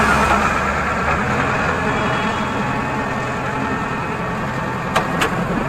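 A Tata truck's heavy diesel engine rumbles steadily at low speed while reversing, a constant close, broadband drone with no talk.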